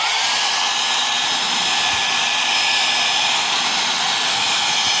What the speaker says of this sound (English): Turn on the hair dryer, warm up the plastic, and push from behind.